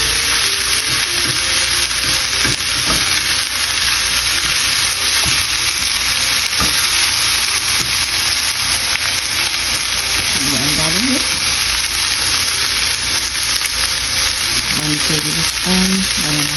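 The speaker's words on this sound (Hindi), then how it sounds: "गर्म तेल करके उसमें 10 कुटी मिर्च डालें" Crushed chilies sizzle loudly in hot oil in a pan while cooking veggie fried rice, a constant dense frying crackle throughout with occasional stirring scrapes close by.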